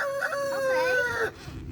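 Chickens in a backyard coop give a loud, close crowing call with rising and falling pitch, preceded by a few clucks, then the sound drops off into quieter background.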